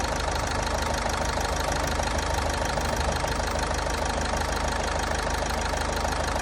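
A Toyota Etios car engine with about 1.8 lakh km driven, noted for smoke and noise, idles close by in a steady, even drone with a faint knocking texture and no talk.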